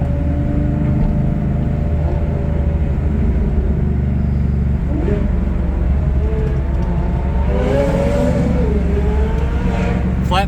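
A Corvette Z06 with a flat-plane crank engine idles with a steady low rumble, then revs in rising and falling sweeps near the end, loud and close, with voices over it.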